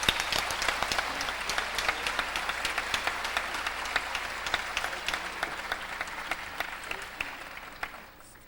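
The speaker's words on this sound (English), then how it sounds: "so give them a big round of applause" An audience at a Hawaiian lu'au clapping for the organizing committee, dense steady applause from a crowd that stays strong and then fades out toward the end.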